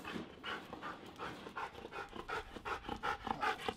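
A dog pants close up in quick, rhythmic breaths that grow louder and more forceful toward the end, with no other sounds over it.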